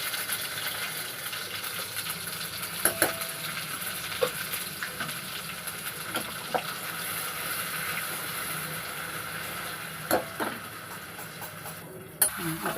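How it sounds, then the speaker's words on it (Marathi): Ground masala paste with ginger-garlic paste fries in oil, giving a steady close sizzle with occasional spoon scrapes and knocks against the pan. "आता परतून घ्यायचे तेलामध्ये वाटण चांगल्यापैकी"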